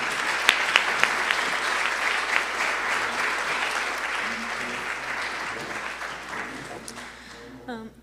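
Audience applause at a university banquet welcoming a speaker to the stage: sustained dense clapping from a large crowd that gradually tapers off, ending with a voice beginning to speak.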